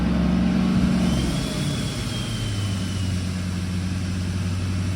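Truck engine held at about 2,500 RPM as the exhaust brake engages, a loud, steady low drone with a deep rumbling undertone that drops slightly in pitch midway and holds; no talking.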